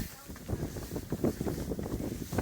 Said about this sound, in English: It starts to get windy.